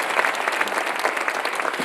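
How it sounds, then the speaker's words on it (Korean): Applause from a church congregation at a Sunday worship service, a dense steady patter of many hands clapping throughout, fairly loud and close with no talk over it. "박수 좀 세게 쳐봐요"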